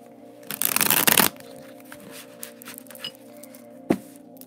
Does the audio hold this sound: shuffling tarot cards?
yes